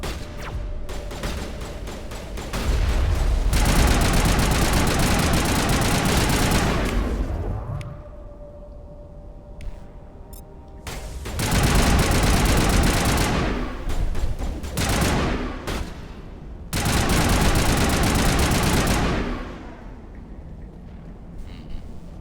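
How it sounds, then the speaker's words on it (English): Assault rifle fire in the Mass Effect video game comes in three long, loud sustained bursts of rapid automatic shots, separated by quieter gaps with faint tones and clicks. "Why are you using your assault rifle? Use your damn shotgun."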